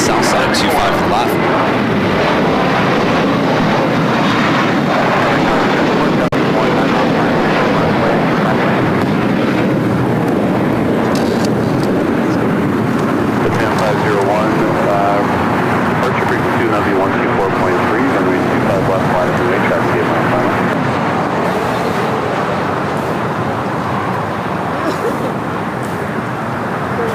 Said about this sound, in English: That is that EVA Air Cargo 777 freighter coming in from Taipei.